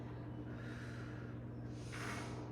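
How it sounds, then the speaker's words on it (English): Deep, steady breathing during a Pilates exercise on a push-through bar, with a soft nasal inhale and a stronger airy exhale near the end over a constant low hum. "Deep breathing. I'm exhaling, driving my front ribs in together."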